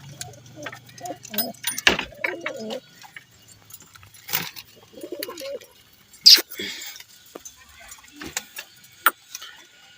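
Soft, low pigeon coos repeat in short bursts amid rustling and occasional sharp clinks and taps, with faint background noise.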